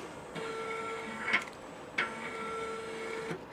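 X-axis stepper motor of a home-built 3D printer moving the carriage back and forth: a steady whining hum with tonal buzz, broken by small clicks and knocks at each change of direction, close and fairly quiet, with no talk.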